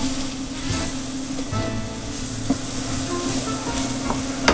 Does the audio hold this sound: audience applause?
no